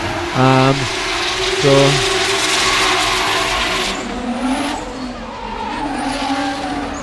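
A VQ-powered PS13 drift car rated at about 650 horsepower makes a qualifying run, engine revving hard through gear changes with loud tire noise, followed by a steady drone under commentary.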